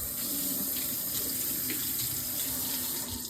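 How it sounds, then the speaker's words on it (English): Tap water runs steadily into a sink while an apple is washed under it, a continuous close splashing rush with no voices. "We need to wash the apple."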